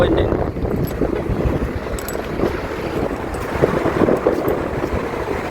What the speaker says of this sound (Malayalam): ഇതാണ് നല്ല കാറ്റ്